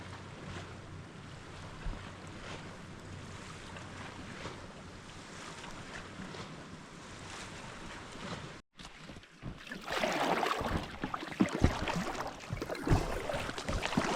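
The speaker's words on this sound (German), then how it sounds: "vor mir haben sich jetzt diese Wellen, diese kleinen Wellen aufgebaut" Small waves from the incoming tide lap in a calm Norwegian fjord, a soft continuous wash that grows louder and closer after a brief dropout midway, with no talking.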